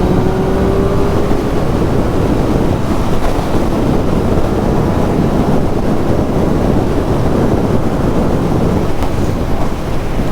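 Loud, steady wind roar buffets the microphone throughout while riding a 2023 Triumph Street Triple 765 RS naked sports motorcycle in fourth gear, a continuous dense rush with no speech.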